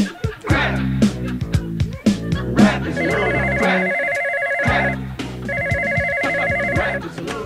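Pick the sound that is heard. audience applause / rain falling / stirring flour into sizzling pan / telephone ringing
telephone ringing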